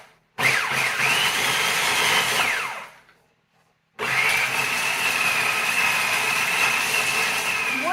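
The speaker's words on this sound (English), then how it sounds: "Make sure you grind it to a fine powder, as fine as you possibly can get it." Dried wild mushrooms, including chanterelles and hen of the woods, ground to fine powder in an electric grinder. It runs in two loud, steady whirring bursts separated by a short silence, close by and without speech.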